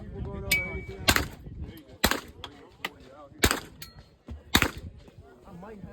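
Glock 23 .40 caliber pistol fired at a range, four sharp, loud reports spaced about a second apart, with people talking quietly between the shots.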